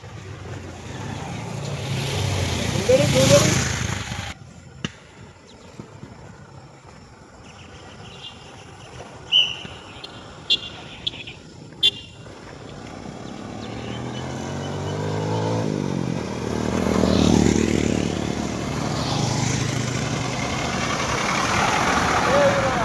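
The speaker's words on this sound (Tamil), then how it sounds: "நம்ம வண்டி போகிறது பாருங்கள், நம்ம வண்டி பாருங்கள் எல்லாரும்" A vehicle rolls along the entrance road at the Isha Yoga centre near Coimbatore, heard as a broad rumbling drone with wind noise that swells and fades, punctuated by a few short knocks midway.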